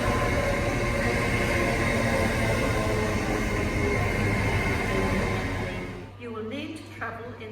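A train runs through a station at speed, a loud broad roar and rumble filling the first six seconds before fading, followed by a low hum and faint announcement-like tones.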